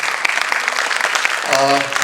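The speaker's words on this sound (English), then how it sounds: "Again, a big round of applause for them." Audience applause after a dance performance at a classical dance event, brisk close clapping throughout, with a voice speaking over it near the end.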